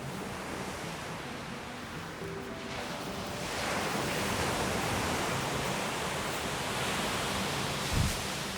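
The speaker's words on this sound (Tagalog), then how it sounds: "The sound of the waves can hypnotize you" Pacific Ocean waves wash against the shore near Napier Port, New Zealand, as a broad, continuous roar of surf. The wash swells slightly midway through, with a faint wind rumble underneath and no voices.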